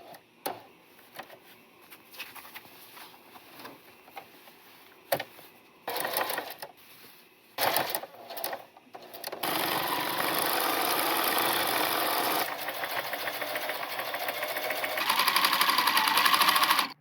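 A sewing machine mends a distressed garment, first in short start-stop bursts of stitching, then running steadily and loudly for long stretches, the motor whirring close up with no talk over it.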